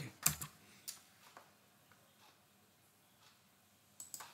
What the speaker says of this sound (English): Let's type state.